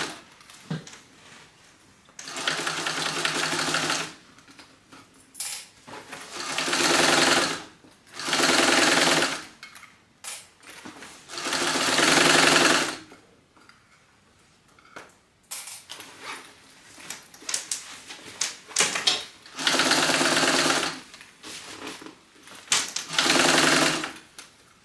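A sewing machine stitches a seam at 5/8 inch allowance in loud, close bursts of several seconds each, broken by short quiet gaps and small handling clicks as the fabric is adjusted.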